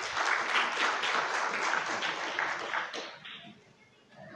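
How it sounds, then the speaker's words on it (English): Audience at a school quiz night gives a big round of applause for the participating quizzers: dense, sustained clapping from a crowd that tapers off near the end. "Give them a big round of applause."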